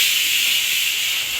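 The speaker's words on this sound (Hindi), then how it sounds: "कुकर की सीटी का आवाज़ आ रहा है तो भाई सब जग रहे हैं" Pressure cooker whistle in a home kitchen, heard as a loud, continuous, breathy steam hiss that holds steady from start to finish with no other sounds.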